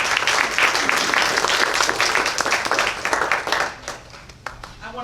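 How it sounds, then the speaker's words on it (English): Audience applause at a Shorebird Festival reception, a dense burst of many hands clapping that holds steady and loud, then thins out to scattered claps and faint talk near the end. "I want you to give yourself all a round of applause because this is pretty special."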